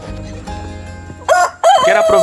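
A Label Rouge rooster crowing loudly and close, a strained, rising cock-a-doodle-doo in two bursts after some low clucking and farmyard noise.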